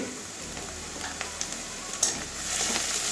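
Chopped onions with a little turmeric frying in a pan, a steady close sizzle with light stirring clicks and a brief scrape, growing slightly louder toward the end.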